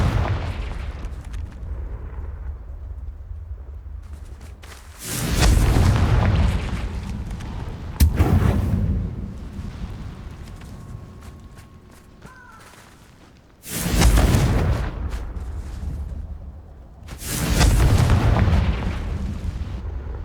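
Confringo fire spells explode in the video game Hogwarts Legacy, four heavy booming blasts a few seconds apart, each swelling loud and then rumbling away over a constant low game ambience.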